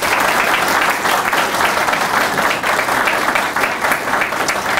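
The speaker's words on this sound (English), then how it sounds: "if you could please give a warm round of applause in appreciation to Clayburgh Bank" At an athletics press conference, a room of people gives sustained, loud applause for sponsors Clayburgh Bank and EmbroidMe. The dense clapping holds steady for the whole stretch, with no talk over it.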